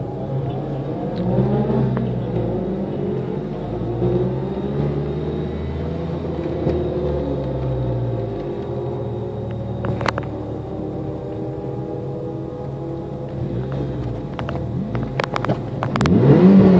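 A smoky old Subaru Evo 1 idles and revs on the line at Santa Pod drag strip, its engine droning with shifting pitch before surging louder and launching at the end.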